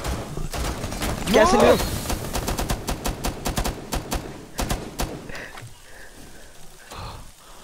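Rapid automatic gunfire and single shots crackle through a firefight in Rainbow Six Siege Terrorist Hunt, dense bursts under excited shouting from players.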